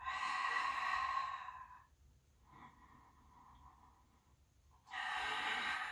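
Breathy exhales during a Pilates exercise at home, a long audible breath out, a softer quieter stretch, then another strong exhale, close and alone without talk.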